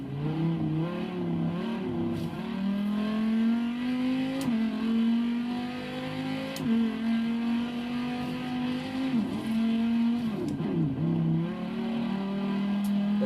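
A Dodge Viper's engine in the racing game Forza Horizon 3 drones steadily through a street race, its pitch rising and dipping as it revs and shifts, with brief tire noise, loud and continuous with no talk.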